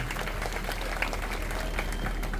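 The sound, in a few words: applause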